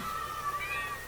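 A brief, faint, synthetic-sounding cat meow from Minecraft, over a steady electronic hum.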